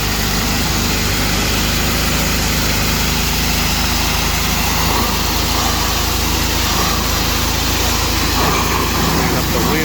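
A Ryobi 3100 PSI gas pressure washer runs steadily and loud throughout, its engine drone and high spray hiss continuous as it blasts grime off tires, with a voice speaking over it.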